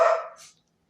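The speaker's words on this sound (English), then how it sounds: "My dog is getting rowdy." A single sharp, close bark from a restless pet dog indoors wanting to go outside, loud at first and then quickly tailing off into silence.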